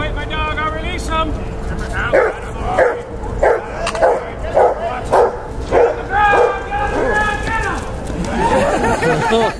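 At an outdoor canine attack demonstration in a Toronto park, a dog barks and yips in a rapid, loud run of repeated barks, with crowd chatter and voices filling the background.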